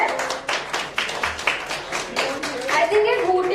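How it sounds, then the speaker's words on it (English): An audience at a book launch claps for singers, with uneven rhythmic hand claps close by and voices mixed in. "Can we have a huge round of applause for them?"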